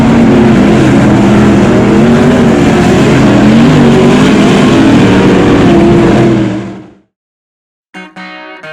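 A 410 sprint car engine at Fremont Speedway, loud and close, holding a steady, rough high-revving drone for several seconds before cutting off abruptly into silence, followed by a brief faint rattle.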